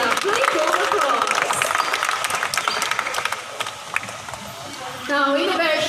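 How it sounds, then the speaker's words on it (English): Audience applause at a bird show in a Singapore bird park, a steady crowd of clapping that carries on for several seconds, with a voice over a loudspeaker and bird calls heard near the end. "Please give applause."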